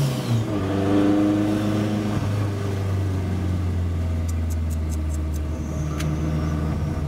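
An Opel Manta Turbo with a 1.8 engine making 320 wheel horsepower accelerates hard, its engine note climbing steadily and loud up close, with a few sharp ticks toward the end.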